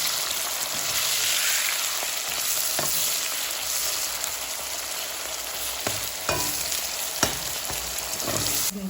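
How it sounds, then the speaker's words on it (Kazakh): Onions frying in a pan until deep reddish, a steady close sizzle with a few soft stirring clicks and scrapes scattered throughout. "Пиязды өте қатты қызыл болғанша қуырып аламыз."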